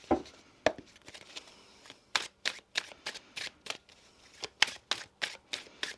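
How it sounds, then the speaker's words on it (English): A deck of cards being shuffled up close: two quick riffles, then a rapid series of sharp, rhythmic flicking snaps, with no talking. "Let's get one more shuffle here."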